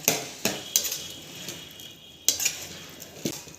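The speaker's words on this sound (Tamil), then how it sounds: "இப்போ வந்து நம்ம இந்த பொறிக்கிற அந்த மசாலாவில் அப்படியே சேர்த்துக்கலாம் சேர்த்துட்டு நல்லா அப்படியே மிக்ஸ் பண்ணி விட்டுருங்க" Metal spoon scraping and clinking in a pan as crumbled vada is stirred into frying masala for vada curry, with sharp clanks at intervals over a soft sizzle, close and alone.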